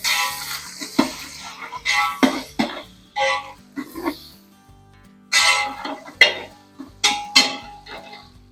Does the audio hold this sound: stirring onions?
yes